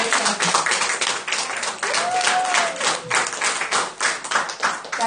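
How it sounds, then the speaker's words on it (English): A church congregation breaks into sustained applause, dense rapid clapping from many hands that swells and fades slightly over several seconds, with a brief voice rising through it. "Can we clap for that?"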